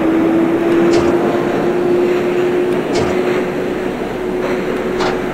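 A New York City subway train on the BMT L 14th Street line runs in the OpenBVE simulator, a steady motor whine and rumbling hum with a few brief higher squeals recurring.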